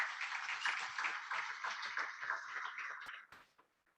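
Applause from an audience honoring award recipients at a community event, a steady wash of many hands clapping that fades out near the end.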